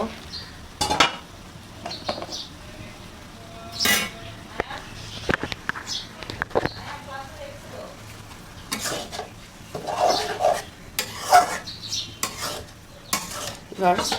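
Fried cabbage with prawns being stirred in a pan, with repeated scraping and clinks of a spatula on metal and a light sizzle underneath. Someone talks at times between the strokes.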